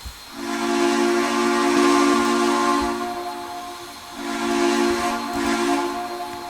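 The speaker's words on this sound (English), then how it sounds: "I should do the whistle" A Southern 630 steam locomotive whistle in the Trainz video game sounds in two long, loud, steady blasts with a brief dip between them, hissing over a soft rumble, with no talk.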